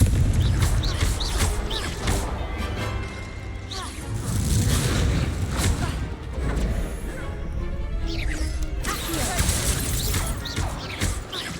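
Repeated booming blasts of the Confringo explosive spell in the Hogwarts Legacy video game, dense crashing bursts layered over game combat noise, with a player talking at times.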